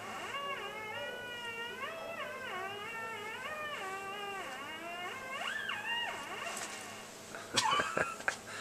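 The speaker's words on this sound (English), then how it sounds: "My cat is afraid of the vacuum cleaner played on the theremin." A theremin plays a wavering, sliding melody with strong vibrato and swooping pitch bends, sustained and clear over a quiet room background, ending with a few sharp knocks.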